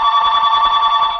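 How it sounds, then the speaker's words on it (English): A phone ringing with a steady electronic trill, close and fairly loud, sounding continuously for about a second with no talk over it. "who's calling Garrett's phone"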